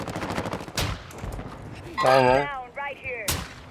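Gunfire in an online shooter game cracks out in a few sharp, loud single shots among game noise while players talk and laugh over it.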